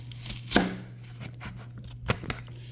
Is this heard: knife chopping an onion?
yes